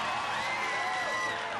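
A studio audience breaks into faint, continuous cheering and whooping for a brief moment after a live show's vote tally is announced.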